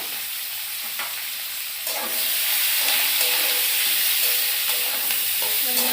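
Onion and green chilli fry in a pan with a steady, close sizzle that grows louder and fuller partway through, broken by occasional scraping stirs.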